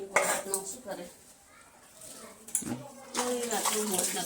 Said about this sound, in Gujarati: આ સાઈડ ચાના વાસણ કરશે